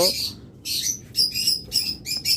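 Caged pet birds at a bird seller's shop chirp in a run of sharp, repeated bursts, close and fairly loud, with brief gaps between calls.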